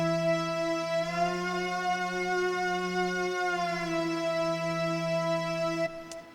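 A sustained keyboard tone from a 2022 rig, bright with many harmonics, held steadily for about six seconds and then bent up a half step by added key pressure before being released.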